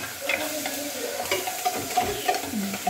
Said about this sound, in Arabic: تو نخليهم يزيدوا يتقلاو مع بعضهم